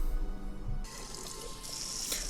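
Steady rush of running water from a tap in a 1984 movie scene, filling the background continuously and growing brighter and louder partway through, with no talk.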